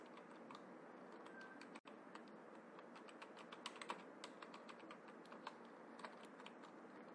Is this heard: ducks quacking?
no